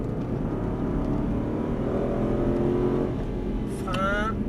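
An Aston Martin Vantage engine drones steadily on the Dreux race circuit, a sustained mid-range hum with a brief higher whine near the end, while an instructor speaks over it.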